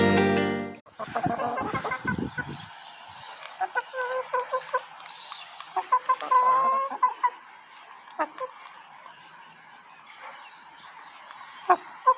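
Backyard chickens clucking and calling in short irregular bursts over a quiet outdoor background, fairly close, with no talking.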